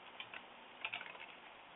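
Quiet keystrokes on a computer keyboard as a command is entered in a Kali Linux setup, a few light scattered taps in a short burst at low level with no talk.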